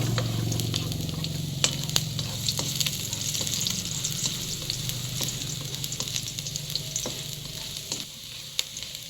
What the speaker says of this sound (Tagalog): Gigisa tayo ng bawang